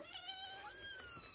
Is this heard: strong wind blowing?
no